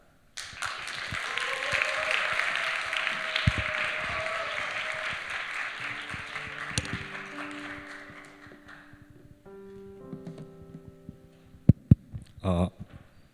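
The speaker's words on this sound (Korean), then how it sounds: "나올 때 따뜻한 박수로 환영해 주시면 감사하겠습니다" Warm welcoming applause from a church youth-group congregation during Sunday worship, a moderate, even wash of clapping that gradually fades, giving way to soft sustained tones and a few scattered sharp knocks.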